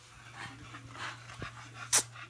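A dog, likely a French Bulldog or bully breed among kennel dogs, pants softly in quick rhythmic breaths over a steady low hum, with a brief sharp yip near the end.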